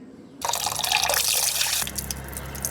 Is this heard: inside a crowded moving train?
no